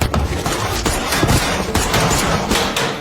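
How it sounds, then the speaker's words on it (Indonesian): Gunfire rings out during a film shootout in a dark location, with dense, continuous bursts of shots and crashes running loud and close throughout, with no talking. "Terjadilah baku tembak di tempat gelap dengan Julian yang masih terjebak di tengah-tengah pertempuran."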